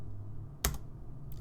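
A single keypress clicks on a computer keyboard, then another soft tap follows near the end, brief and close against quiet room hum.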